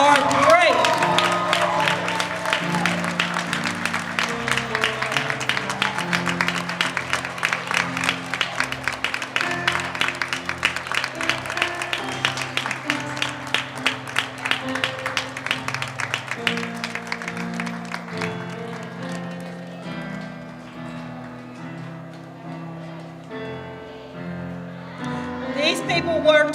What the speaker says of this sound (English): Please rise and give them a round of applause because their accomplishments are great.